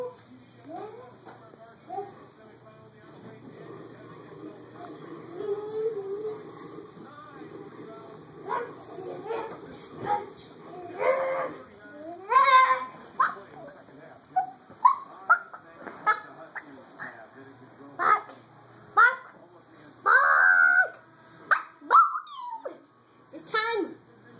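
Dog whimpering and giving high whiny yelps and short barks, faint at first and then growing louder and more frequent in closely spaced bursts, mixed with people talking nearby.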